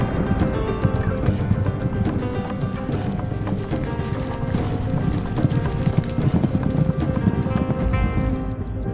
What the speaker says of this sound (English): Their resistant Nangchen horses are capable of galloping even at altitudes of close to